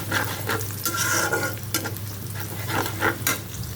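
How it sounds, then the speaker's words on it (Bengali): Onion frying in a pan for an egg and frozen-carrot pasta dish, with steady close sizzling and scraping stirring strokes throughout, no voices. "এই যে পেঁয়াজটা ভাজা হয়ে গেছে"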